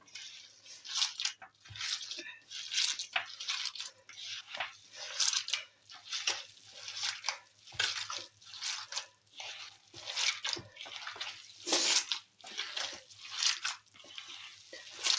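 Hands squishing and kneading a wet chicken mince kabab mixture with a raw egg, a close, steady run of sticky squelches and smacks at an uneven rhythm, with no talking.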